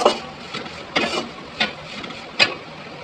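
A spoon scrapes and stirs masala in a pan for pulikkulambu, with a few separate clinks and scrapes spaced out over a soft sizzle. The sounds are close and fairly quiet.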